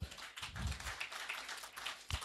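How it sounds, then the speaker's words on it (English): An audience at an economic discourse event claps, a brief scattered round of hand claps with a few louder close slaps, fairly faint overall. "Let's clap for him."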